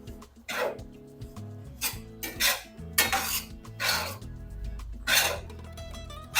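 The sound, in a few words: stirring rava upma in a pan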